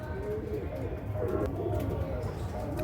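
Domestic pigeons, cargo-type birds kept in a loft, cooing in low repeated throaty rolls, close and continuous with some background noise throughout.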